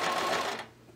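A sewing machine stitches a towel apron in a quick, close whirring burst that stops abruptly after about half a second, with no talk over it.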